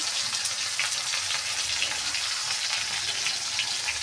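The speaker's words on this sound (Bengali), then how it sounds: "এবার আমি জিরে আর আদা বাটাটা দিয়ে দিলাম" Cumin and ginger paste sizzles steadily in hot oil for a vegetarian paneer dish, a dense, continuous frying crackle that stays loud and close throughout with no voices.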